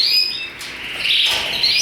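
A pastel male canary at a breeding show sings a bright, continuous warbling song with rapid high chirps and trills, close and clear throughout.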